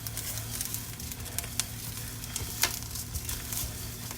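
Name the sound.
rice toasting in a pan on the stove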